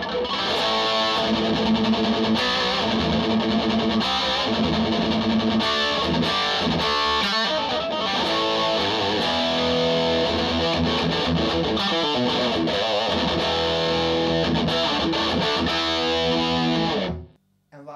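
Electric guitar played through a 1990s Marshall JCM600 amp with high-gain distortion, a loud, dense run of chugging chords and riffs lasting about seventeen seconds before cutting off abruptly, with no talk.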